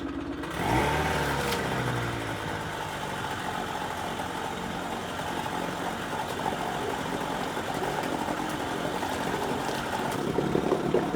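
A Chrysler 20 HP AutoElectric outboard powerhead runs in a small test bucket of water, settling into a steady, close idling drone after a brief start-up and continuing unbroken with no talk.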